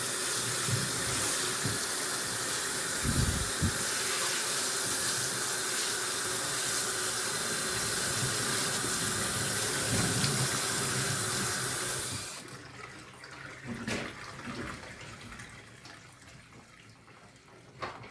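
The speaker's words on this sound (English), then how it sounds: "Now I'm wetting down our hair." Tap water runs steadily while hair is being wet, a loud continuous splashing hiss that stops abruptly partway through, leaving faint room noise and small knocks.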